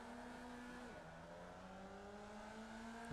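A Formula Vee race car in the iRacing sim pulls away from a standing start, its engine note faint and steady before dipping briefly and then climbing again as it gathers speed.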